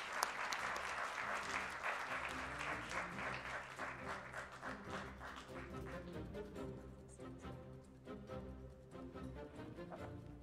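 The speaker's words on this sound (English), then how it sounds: "Let's give him a round of applause, please." Audience applause at a business market event in Morocco as a bank president is welcomed to the stage, sustained dense clapping that gradually thins and fades over about ten seconds.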